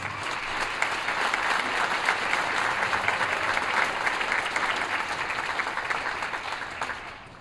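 Audience at a 5th and 7th grade band concert giving a round of applause, steady dense clapping from a crowd at moderate distance that fades out at the end.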